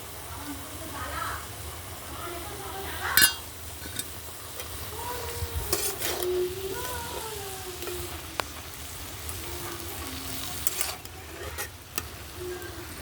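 Garden-fresh pumpkin greens fry in a pan with green chilli and poppy seed paste, giving a steady close sizzle broken by repeated scraping stirs of a spoon, with a voice talking faintly over it.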